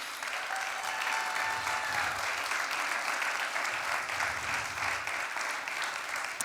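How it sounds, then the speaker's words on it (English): An audience at a high school pitch event applauds for a student's teachers, a steady, dense round of clapping that holds evenly for several seconds without any speech over it. "we'd love a round of applause for his teachers"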